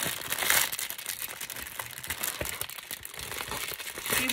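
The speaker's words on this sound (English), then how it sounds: "Oh no, I'm gonna have to cut this open." A wrapped package being cut open, with close crinkling and crunching of the wrapping in steady bursts of rustle, no talk.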